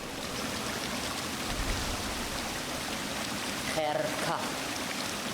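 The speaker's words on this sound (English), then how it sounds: "The waterfall hides the tears." Steady rushing waterfall in the video game Hollow Knight: Silksong, a dense continuous roar of falling water that holds evenly throughout, with a faint brief chime-like tone near the end.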